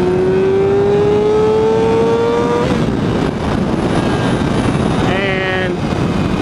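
Brand-new Triumph Daytona 675 motorcycle, not yet broken in, revs up loudly with a steadily climbing engine pitch, then drops into a rough rumble before a second short, sharp rev near the end.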